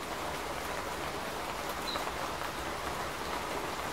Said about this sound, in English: And if you listen in the background, you hear like, it sounds like a rain texture.